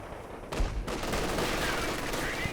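Machine gun and artillery fire in a war video game, heard as a dense crackle of rapid gunshots after a heavy blast, continuing steadily with no voices over it.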